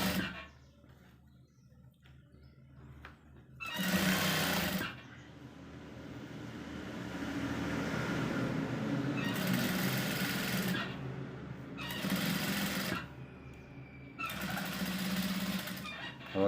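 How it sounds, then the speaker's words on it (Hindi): A sewing machine stitches the placket of a kameez in bursts: several loud, buzzing runs of stitching, one long and the rest short, separated by quieter pauses. "इस तरह से हम रख के इसकी और सिलाई करेंगे दोस्तों इस तरह से।"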